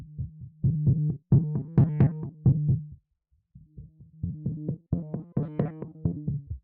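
Textured electronic groove run through ShaperBox effects, pulsing low synth chords chopped into rhythmic gated stabs, two phrases split by a short silence, loud and alone.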